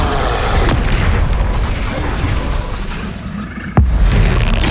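Glacius ice and Confringo fire spell blasts in the Hogwarts Legacy video game: a dense, loud rumbling roar of combat effects with one sharp booming impact near the end.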